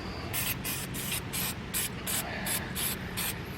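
Silicone spray squirted into a Jeep track bar bushing in short repeated bursts, about nine quick hissing sprays in steady rhythm, close and fairly loud with no talking.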